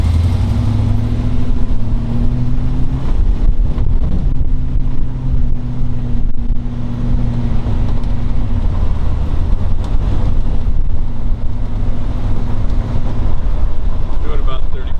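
A 1935 Ford Deluxe rumble seat roadster with a 383 Tri-Power engine cruises with the top down at moderate speed, its steady engine drone mixing with heavy wind rush. The sound stays loud and continuous the whole time.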